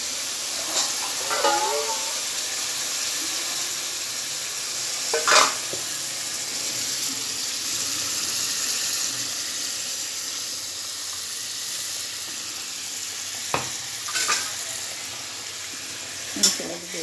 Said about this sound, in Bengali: মশলাটা দিয়ে দিচ্ছি, ভাজা হবে মশলাটা।